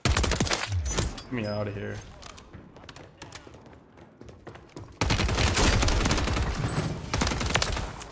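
FAMAS gunfire in Rebirth Island: rapid bursts of close shots in the opening seconds, a quieter stretch of scattered impacts and movement, then dense continuous firing after the midpoint, with someone talking over the first part.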